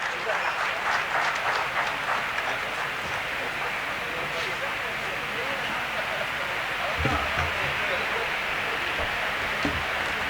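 An audience at a law college moot court valedictory function claps steadily throughout, a dense, even wash of applause heard from a moderate distance.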